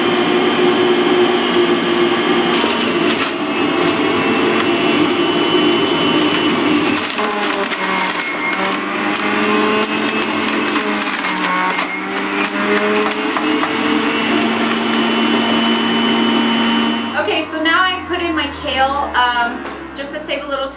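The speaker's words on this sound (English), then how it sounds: "start juicing my kale" A Breville two-speed juicer grinds kale, a loud steady whirring and crushing hum that holds for most of the stretch before the tone shifts and the motor winds down near the end.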